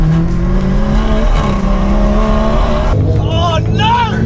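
A stage 3 tuned BMW M140i pulls hard from a rolling start at 30 mph against an Audi RS5, its engine droning loud and steady throughout, with excited voices shouting over the roar near the end.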